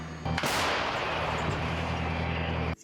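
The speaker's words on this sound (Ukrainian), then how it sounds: "Екіпаж наводиться на ціль і веде вогонь" A single heavy blast from a Paladin self-propelled howitzer firing in Donetsk region erupts, loud and booming, followed by a long rolling roar that sustains for a couple of seconds before cutting off.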